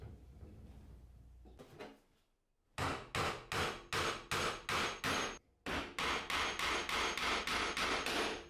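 Nails are hammered into oak pieces with a series of sharp, regular blows, about a dozen in two runs split by a short gap, loud and close with no talk.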